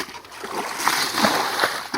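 Water being splashed out of a small village pond to catch fish, with repeated close splashes and sloshing throws over about two seconds.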